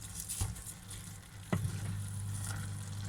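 Pancit noodles sizzle and fry in a pot as they are stirred, with a couple of sharp scraping clicks from the utensil over a steady low bubbling hiss, close and moderately loud.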